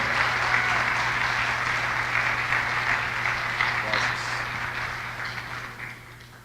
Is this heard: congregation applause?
yes